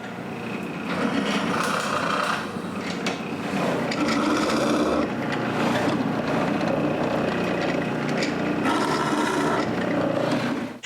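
A drill bores screw holes again through a piece of wood for a stair gate, a loud, close grinding whir in several sustained bursts with short pauses between them.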